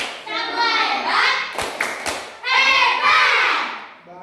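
A third-grade class in Indonesia chanting and clapping along to a clap cheer, with children's voices in unison followed by a few sharp claps and thumps, then more group chanting.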